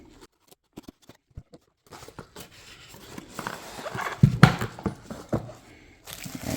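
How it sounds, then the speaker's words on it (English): A box holding an ECU unlocker device for a BMW 340i is being cut open at home: scattered soft clicks first, then a rising run of close scratching, tearing and rustling cardboard with a few louder snaps, no talking. "So go ahead and cut it open."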